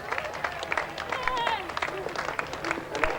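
A big crowd cheers and claps for finishing runners at the 1996 London Marathon finish line, a steady wash of applause and shouts with bursts of whistling and voices throughout.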